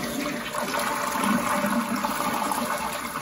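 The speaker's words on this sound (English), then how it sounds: "Gonna do a full flush." A replacement American Standard convenient-height toilet runs a full flush, a strong continuous rush and swirl of water that holds steady for about three seconds, close and alone.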